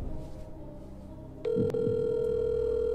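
A phone tone sounds during a phone-a-friend call in a home game, starting abruptly midway and holding as a steady, fairly loud electronic tone over a low background hum, with no talking.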